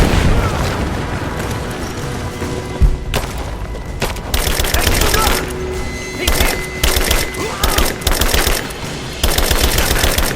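Rapid automatic gunfire and loud booms fill a firefight in the video game Rise of the Tomb Raider, bursts stuttering on and off with explosive thumps throughout.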